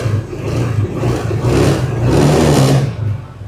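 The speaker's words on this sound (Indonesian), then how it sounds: "Kita hidupin, kita nyalakan, kita starter ya." A car engine is started and then revved, a loud, close mechanical whir that swells and eases in waves over a few seconds before dropping off.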